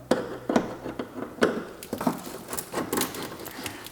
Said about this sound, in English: As I unscrew this, I hear rocks falling down.